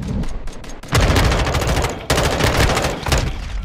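Call of Duty Modern Warfare 2 gunfire crackles in dense, sustained automatic bursts, loud and close, with brief gaps and a renewed volley midway.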